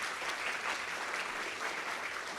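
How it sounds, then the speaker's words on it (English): Audience members at a research session of a science foundation principal investigators meeting applaud, a steady, fairly loud crowd of clapping hands with no pauses, heard alone for a short stretch. "Please give him a round of applause"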